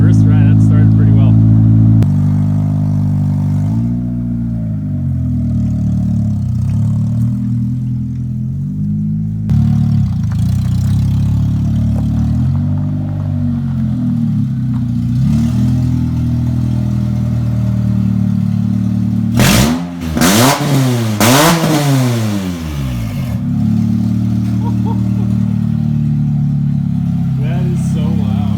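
A K-series engine running loudly at idle with several revs rising and falling, one sharp burst near the end, while people talk over it.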